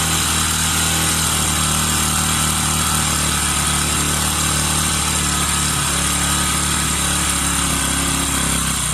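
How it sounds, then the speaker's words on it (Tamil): A Bajaj Pulsar motorcycle engine idles steadily and close by while its carburettor air-fuel screw is slowly tightened, a continuous even putter with no speech. "மெதுவாக ஐடில் ஆர்பிஎம் குறையும், கொஞ்சம் கொஞ்சமாக குறைஞ்சி வரும்"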